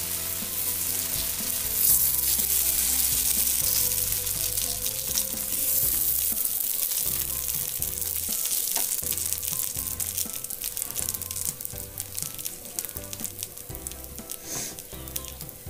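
Masala dosa batter poured onto a hot griddle crackles with a loud, bright sizzle that slowly settles, while steady background music plays underneath.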